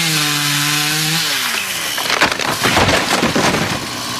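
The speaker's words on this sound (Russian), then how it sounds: "Их совсем не интересует звук электропилы." An electric chainsaw whines with a rising and falling tone, then roars into a rough, gritty cut, loud and close, with no voices.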